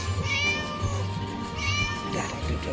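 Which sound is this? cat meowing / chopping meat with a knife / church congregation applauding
cat meowing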